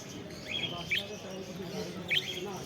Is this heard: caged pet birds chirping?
yes